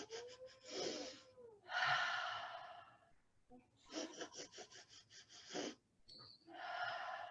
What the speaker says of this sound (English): the staccato breathing we've done here before, short inhalations like this